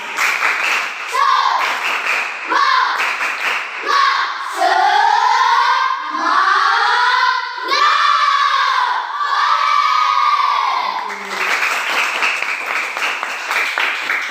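A class of schoolchildren performs a rhythmic chanted clap-and-cheer routine in a classroom lesson, loud shouted call-and-response voices that rise and fall, with bursts of clapping in time and ending in applause.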